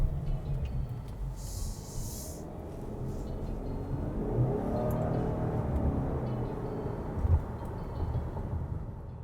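A 2021 Subaru Legacy Touring XT with its 2.4-liter turbocharged engine and CVT accelerates, a low engine drone rising in pitch as speed builds, heard from inside the cabin with road rumble underneath.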